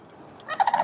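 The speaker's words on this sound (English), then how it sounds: "That sound you hear are sandhill cranes." Sandhill cranes call in a short burst of rolling, rattling notes at a moderate distance, rising out of quiet outdoor background.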